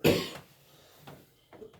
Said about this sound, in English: Sorry for the coughing in the background.